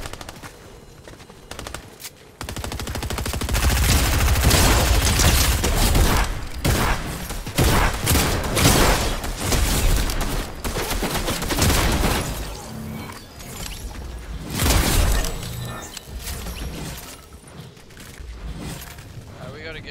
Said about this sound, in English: There's gunfire somewhere.